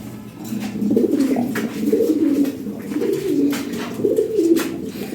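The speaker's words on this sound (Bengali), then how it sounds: "হ্যাঁ অনেক সুন্দর কবুতর।" Lahori and Shirazi pigeons cooing in soft, repeated rolling phrases, several overlapping calls close by, steady and continuous with no talking.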